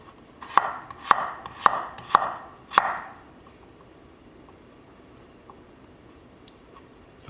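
Green onions are chopped with a knife on a cutting board: five crisp, evenly spaced chops close by, then near silence with faint room noise, and a last sharp knock at the very end.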